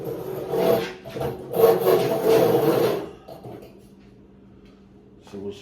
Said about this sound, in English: the best way to cut this off, I think, is probably going to be in the bandsaw